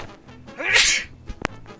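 A single sharp sneeze close into a headset microphone during an online tabletop game session, a quick inhale building into a loud burst, followed by a faint click and soft room noise.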